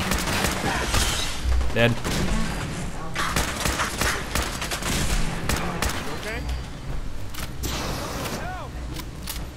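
Dense Fallout 4 gunfire, repeated shots and bursts with heavy thumps over a busy combat din, while someone talks over it.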